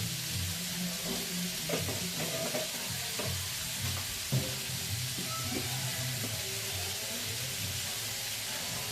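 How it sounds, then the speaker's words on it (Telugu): Onions cook in a little oil in a pan, giving a soft, steady sizzle with occasional light stirring scrapes, fairly quiet and without speech. "ఆయిల్ కొంచెం వేస్తే ఉల్లిపాయ త్వరగా మగ్గుతుంది"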